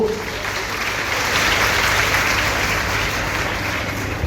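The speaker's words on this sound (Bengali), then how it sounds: "এই প্রত্যেক বোনেদের জন্য একটা জোর হাততালি হোক।" Steady, dense applause from an audience at a Kanyashree Day event in Malda, continuous and loud throughout with no distinct voices.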